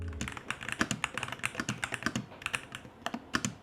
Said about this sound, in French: Écoute le bruit de ce clavier.